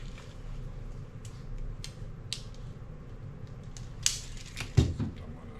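A piece of roofing underlayment is cut with a few scattered crisp snips and clicks over a faint background, the last ones louder and closer together.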